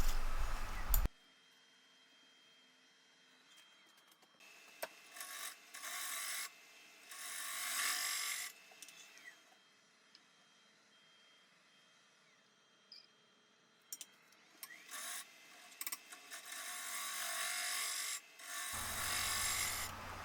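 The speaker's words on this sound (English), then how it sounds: "I'm able to do most of it with the 5/8 inch bowl gouge" A 5/8 inch bowl gouge cuts wood on a lathe, producing intermittent rasping, shaving bursts between quiet pauses, fairly faint and close.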